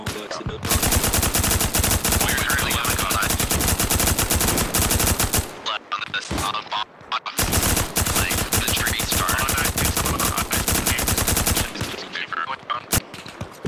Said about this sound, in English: The first BTR is firing at us now.